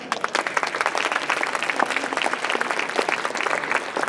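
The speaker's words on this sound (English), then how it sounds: "Shall we clap?" Steady applause from an audience at a college annual-day event, many hands clapping densely and evenly for about four seconds, fairly close and unbroken.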